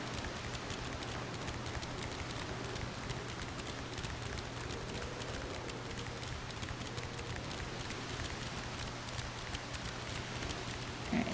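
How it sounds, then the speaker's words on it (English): Steady rainfall in Final Fantasy XIV, falling over a desert area as a constant dense hiss of drops at moderate level, holding evenly throughout with no voices over it. "For a desert, this area gets quite a bit of rain."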